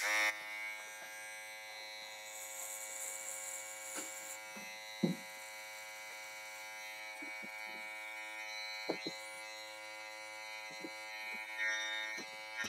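An electric hair trimmer cutting hair to 0.2 millimetres buzzes steadily up close in a barbershop, with small clicks and bumps as it moves, and no one talking.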